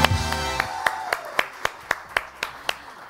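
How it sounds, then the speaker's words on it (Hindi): A small audience claps for Ali Raza in a studio show, a rhythmic series of about a dozen sharp, evenly spaced hand claps, loud and close, following a fading musical tone. "अली रजा के लिए एक दफा फिर जोरदार तालियां।"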